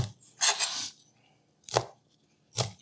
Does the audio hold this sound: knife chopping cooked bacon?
yes